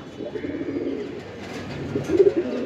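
Chila Giribaz pigeons coo in soft, low, throaty rolls close by, the calls swelling a little louder toward the end.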